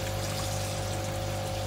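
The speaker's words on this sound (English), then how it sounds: "I'll just prove that by running the tap, which has got just cold water coming out of it." Cold water running steadily from a tap in a garage, a constant rushing flow with a low mains hum underneath, unbroken for the whole stretch.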